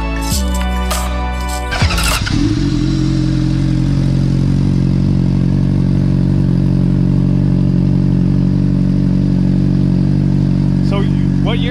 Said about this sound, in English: So 2012 Honda CBR. This thing sounds nasty.